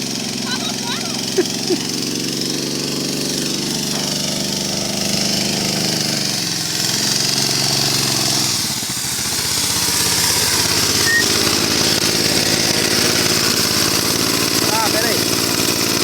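A mini buggy's small engine runs loudly and continuously on dirt, revving and dipping then holding a steady high drone, close to the microphone with voices speaking over it.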